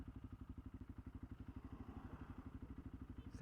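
Several small motorcycles in a group ride pass along a coastal route, their engines making a steady rhythmic mid-pitched pulse that holds throughout at moderate volume, with no voices.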